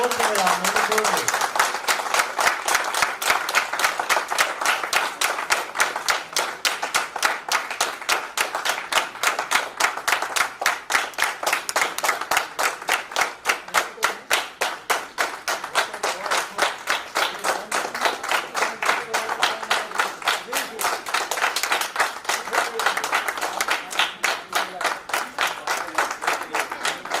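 A crowd at a corporate gathering keeps up steady synchronized clapping, a rapid even beat of many hands held at a loud, constant level for nearly half a minute, with faint voices underneath.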